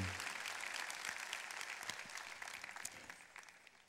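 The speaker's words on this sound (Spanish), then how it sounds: "Dele un aplauso fuerte al Padre Celestial, a su Hijo Jesucristo y al Espíritu Santo." A church congregation applauds, a soft, somewhat distant wash of clapping that gradually tapers off over a few seconds, with no speech over it.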